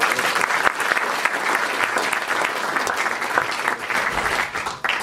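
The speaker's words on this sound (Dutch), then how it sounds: "Geef een hartelijk applaus voor Rietje de Bruin." A café audience claps warmly for a guest speaker at a local history talk, a thick, even round of applause that holds steady and tapers slightly near the end.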